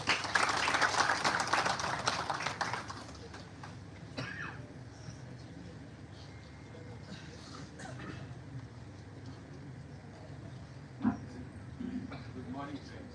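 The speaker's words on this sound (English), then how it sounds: "Please, audience, give a huge round of applause." A crowd applauds loudly for about three seconds, then the clapping stops and a room murmur remains, with an occasional cough and faint talk.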